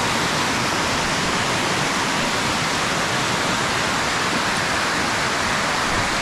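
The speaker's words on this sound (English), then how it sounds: "lovely waterfall." Waterfall in the Szalajka valley near Szilvásvárad, Hungary, heard up close as a loud, steady, unbroken roar of rushing water with no voices over it.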